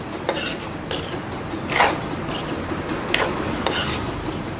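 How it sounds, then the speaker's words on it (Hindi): Metal spoon scraping and clinking in a pan while salt is stirred into bread corn upma, a steady close rasp with a few brighter clanks, no voices. "इसमें अच्छी तरह हम नमक को करेंगे मिक्स"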